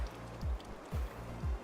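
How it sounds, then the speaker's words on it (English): Water sloshing in a Unity-made video game, three low rhythmic swashes about half a second apart, close and clear, with faint background music and no voices. "Can you hear the water sloshing noises?"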